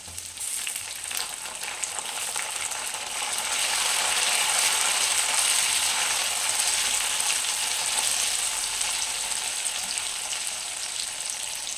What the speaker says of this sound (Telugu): ఇప్పుడు ఇందులోకి మనం టమాటా వేసుకుందాం